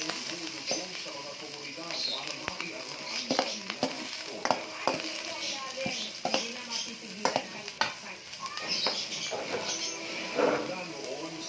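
String beans, corn and ground meat sizzle steadily in a pan as a utensil repeatedly scrapes and stirs, with a person talking over the cooking.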